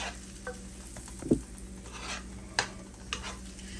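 Imitation crab meat tossed in butter in a pan over low heat, a soft low sizzle with a few scattered utensil clinks and scrapes, fairly quiet and without voices.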